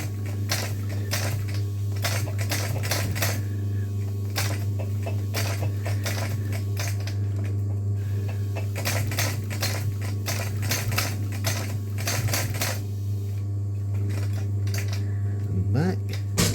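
A leather harness stitching machine sews with nylon thread in rapid, rhythmic clattering bursts over a steady low motor hum, pausing and restarting close by.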